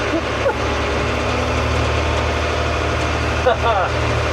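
A Deuce and a Half military truck with solid axles runs at 1400 RPM while off-roading, giving a steady, loud low-frequency diesel drone with a constant hum and faint rattles, under someone talking.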